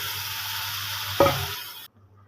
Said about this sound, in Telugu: ఎగ్స్ని ఇందులో వేసి కొద్దిగా ఫ్రై చేసుకోవాలి.